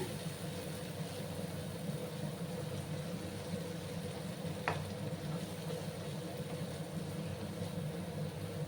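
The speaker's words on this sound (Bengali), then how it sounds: "ভালো করে আমি এটাকে কষিয়ে নেব।" Sesame okra with chili powder sautéing in a pan over a low gas flame, giving a steady, even sizzle and hiss with a low hum beneath and one faint brief clink midway; no talking.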